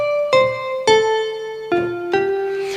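Yamaha DX7 synthesizer with a koto-like patch plays four plucked notes, each a bright, sharp attack with a ringing tone that decays, evenly spaced and close, no voices.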